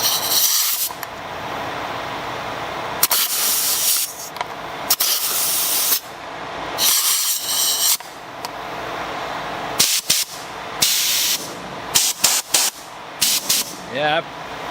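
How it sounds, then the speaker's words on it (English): Bursts of a rebuilt speed sand blaster spraying sand from its nozzle, loud hissing blasts in repeated pulses of a second or two with short pauses between, close up, with brief talk in the gaps. "I'm popping sand out of it now"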